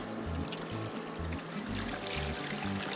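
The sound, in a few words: pouring cold water into pot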